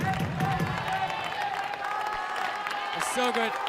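A crowd at a pro pickleball league final in India applauds and cheers as spectators rise, the applause carrying under a commentator's excited speech.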